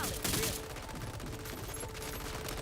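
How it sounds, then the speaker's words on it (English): Turrets firing in a video game, a rapid clattering burst of automatic gunfire that stays close and fairly loud over a steady low rumble, with a louder crack near the start. "It's the turrets."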